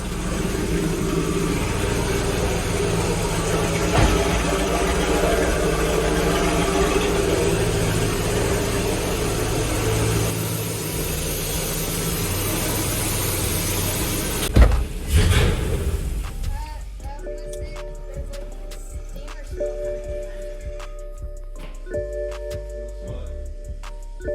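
A BMW E92 335i with a swapped LS V8 idles with a steady low rumble and broadband roar, then a sharp rev burst before settling into a quieter, lower idle hum.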